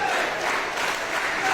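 A live pro wrestling crowd at a pay-per-view event makes a steady, fairly loud wash of cheering and crowd noise with no clear breaks.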